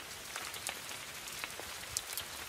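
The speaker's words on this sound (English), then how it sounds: "A little bit of mist and some light rain happening here in the mountain." Light rain falls in the mountains amid mist, a steady soft patter with occasional sharper drops, faint and continuous with no voices.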